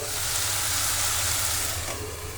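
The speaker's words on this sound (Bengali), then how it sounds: "আর এই কই শাক ভাজি করে নিচ্ছি" Greens (koi shak) fry in a pan with a steady, soft sizzling hiss and a low stove hum beneath, continuous and close, with no talking over it.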